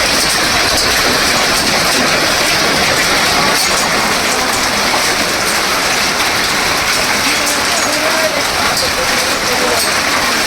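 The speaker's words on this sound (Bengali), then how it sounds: "প্রচুর পরিমাণে শিল করেছে আমাদের। দেখেন আকাশ থেকে পড়তেছে এইভাবে" Heavy hail pours down steadily and loudly at a market in Belkuchi, a dense continuous clatter and hiss throughout with voices faintly under it.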